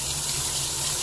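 Steady tap water rushes in a continuous, close gush as an orchid pot is flushed under the faucet, with no pauses or voices.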